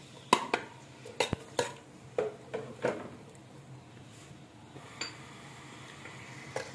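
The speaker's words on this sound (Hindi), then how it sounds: "एक कप घी डाला, इसमें दो दो प्याज डाल देंगे" Onions tipped into a cooking pot of hot ghee while making keema matar aloo, giving a few sharp clattering clinks and stirring knocks against the pot, close and clear, over a faint background with no talk.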